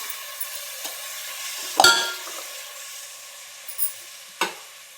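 Peas, potatoes, masala and spices being sautéed for Maharashtrian masale bhat style khichdi, a soft continuous sizzle broken by several sharp spoon scrapes and clinks against the pan.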